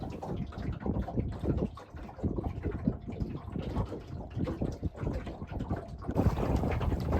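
A boat pushes against the tide under an ePropulsion electric outboard, its steady motor and water wash half-buried under constant roaring wind buffeting the microphone.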